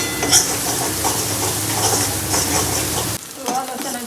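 Onion and garlic with turmeric frying in a pan for soybean masala rice, a loud close sizzle with scraping stirs that suddenly drops to a quieter hiss near the end.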